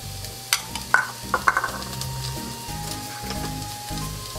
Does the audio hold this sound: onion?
yes